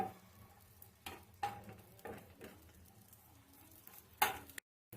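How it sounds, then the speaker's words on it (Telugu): Dry fruits frying in ghee in a pan, a soft steady sizzle with a few louder stirring scrapes and clinks near the end before a brief drop to silence. "డ్రై ఫ్రూట్స్ ఇవన్నీ ఫ్రై చేసుకోండి. ఇవన్నీ ఎర్రగా అయ్యేదాకా ఫ్రై చేసుకోండి."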